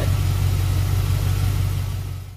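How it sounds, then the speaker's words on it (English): A Chevrolet C4 Corvette engine idles smoothly and steadily, a deep low rumble held close and loud, then easing off slightly at the end, with no talking. "The car is purring like a kitten. It's running fine."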